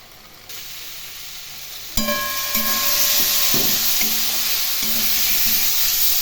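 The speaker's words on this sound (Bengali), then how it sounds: "এখন খুব ভালো করে এইগুলো মশলার সাথে কষিয়ে নেব" Vegetables with spices, salt and turmeric are sautéed in a pan for a Bengali rohu fish curry with potato and brinjal, a sudden loud sizzle that flares as they go in, then a continuous hiss broken by rhythmic stirring knocks.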